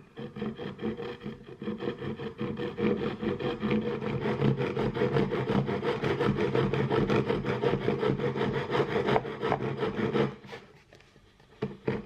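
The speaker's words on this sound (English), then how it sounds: "You can then use this as a guide to carefully saw a perfectly square cut." A hand saw cuts a wooden dowel square against a guide for portable shelves, with steady back-and-forth rasping strokes close by for about ten seconds before stopping.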